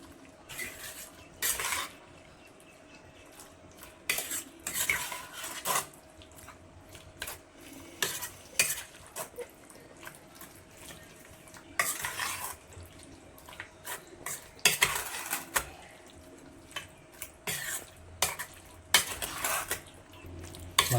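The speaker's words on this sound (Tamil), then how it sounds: "மொத்தமாக சேர்த்து எல்லாத்தையும் மிக்ஸ் பண்ணிக்கலாம் சிக்கனோட" Chicken pieces are mixed with masala marinade for chicken 65 in a bowl, giving irregular wet squelches, spoon clinks and scrapes against the dish in bursts with pauses between, close and moderately loud, with no talking.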